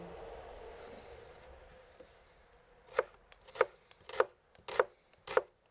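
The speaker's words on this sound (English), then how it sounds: "Then we mince 1 onion." A knife mincing an onion on a cutting board gives five evenly spaced, crisp chops close by, following a quieter stretch of low background sound.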